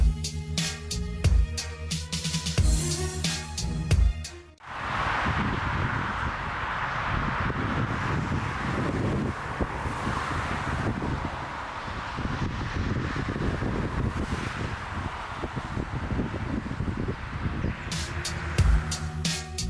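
Strong gusting wind roars steadily for most of the stretch during a crosswind landing of an aircraft in windstorm Friederike over the Netherlands and Germany, a loud broadband rush with rumbling lows, briefly interrupted by music at the start and end.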